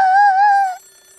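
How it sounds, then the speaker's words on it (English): A video game telephone rings in Hollow Cocoon, a Showa-era setting, with a single warbling electronic ring burst lasting under a second before fading into quiet room tone. "Can you get the phone for us? Ruffians! It's ringing."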